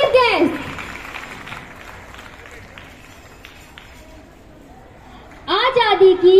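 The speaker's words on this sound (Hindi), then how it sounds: "A big round of applause for our chief guest." An audience at an Independence Day function clapping for the chief guest, a broad wash of applause between bursts of someone speaking over a microphone.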